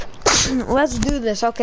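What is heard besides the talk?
sneeze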